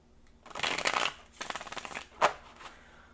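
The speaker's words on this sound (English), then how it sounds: "We're going to do one more shuffle" Tarot cards being shuffled by hand in three quick bursts of papery riffling and slapping, the last one a sharp snap, with quiet gaps between.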